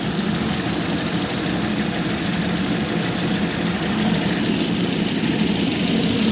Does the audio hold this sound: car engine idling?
yes